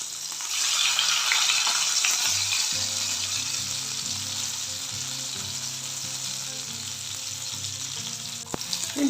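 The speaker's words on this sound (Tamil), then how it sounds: "ஃபிஷ்ஷை ஃப்ரை பண்ணிடலாம் திருப்பி போட்டுருவோம்" Fish frying in a pan: a loud, continuous hiss and sizzle close by, with a few light clinks of a utensil turning the pieces, and no speech.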